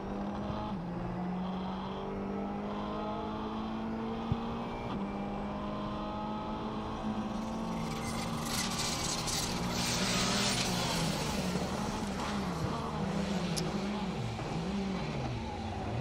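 A Peugeot 306 Maxi rally car enters a stage at the Dukeries Rally, its engine rising and falling through gear changes, a steady loud drone that builds and revs harder midway, with no talk.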